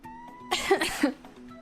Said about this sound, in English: Me coughing into your ears.